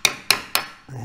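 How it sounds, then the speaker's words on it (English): Three sharp, loud strikes on a chisel cutting into wood for a homemade crystal radio, evenly spaced about a quarter second apart, each ringing briefly before fading. "Whatever I cannot chisel away,"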